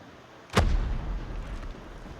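Sniper rifle fire in the mobile shooter game Call of Duty Mobile: a single loud, sharp shot followed by a booming rumbling tail that fades slowly.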